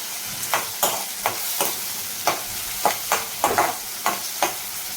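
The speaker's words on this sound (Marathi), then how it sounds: "कांदा थोडासा ब्राऊन होत आला की टोमॅटो घालून घेते छान प्रकारे तेलावरती परतून घेते" Onion and tomato sautéing in oil for a black pea curry, with a steady sizzle and a spoon scraping and stirring in repeated sharp strokes close by, no voices.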